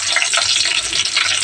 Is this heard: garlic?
yes